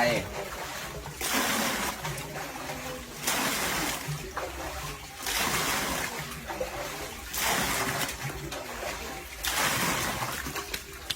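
Water poured from a container onto vegetable plants in a rural home garden, splashing in repeated bursts roughly every two seconds, moderately close, with ambient outdoor noise between pours.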